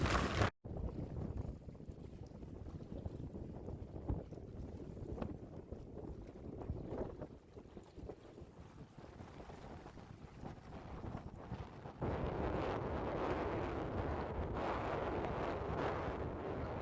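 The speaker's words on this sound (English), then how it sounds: "it's super windy out here. It's crazy windy." Strong wind buffets the microphone outdoors beside water while brook trout fishing, a continuous loud roaring rush with gusts that surge and ease, growing harsher for the last few seconds, and no voices.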